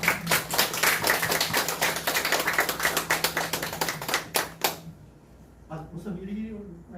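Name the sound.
congregation clapping in welcome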